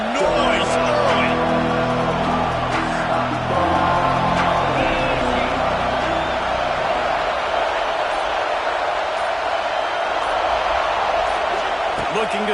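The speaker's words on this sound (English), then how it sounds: "This crowd bringing the energy and noise early." Stadium crowd noise from a Madden American football video game game, a dense continuous roar of cheering fans, loud and steady, with a commentator speaking over it early on.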